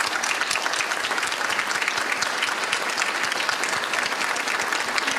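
Applause from the audience at a school concert for the school's patron day, a dense, steady wash of many hands clapping that holds at an even level from start to finish.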